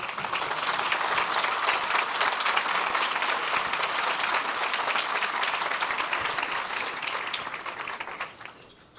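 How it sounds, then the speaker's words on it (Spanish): Sustained applause from a live audience welcoming a guest at a political event in Mexico, dense clapping that stays loud throughout and tapers off near the end. "pido que le demos una bienvenida con un fuerte aplauso"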